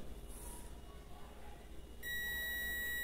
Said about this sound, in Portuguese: primeiro eu fecho aqui as ponteiras, emitiu aí o bip, né, o sinal sonoro